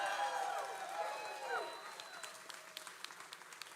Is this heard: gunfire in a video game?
no